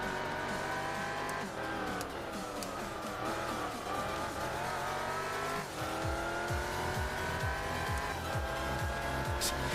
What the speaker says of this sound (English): I'm pushing the hell out of this car, man. That RX-7, oh my gosh.